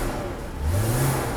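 A cold Mercedes W126 300SEL engine, just repaired after a fuel distributor fault, is revved in a short smooth rise from a low idle hum to a steady higher drone, close and fairly loud.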